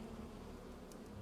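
Bees buzz in a video game as a steady, low droning hum that holds evenly throughout, fairly quiet, with no voices.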